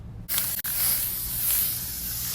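An aerosol can of gold spray paint sprays over real roses, a close, continuous hissing burst that starts abruptly, breaks briefly, then resumes steadily to the end.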